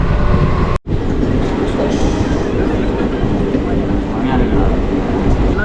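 A train rolls along the rails with a steady, loud rumble and rattling wheel noise close by, briefly cut by a sharp drop near the start, with faint voices mixed into the din.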